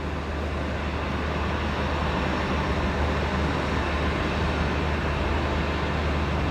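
Jet engine spooling up somewhere at Brisbane Airport, a steady, dense broadband roar that holds at an even level throughout, distant and continuous with no talk over it.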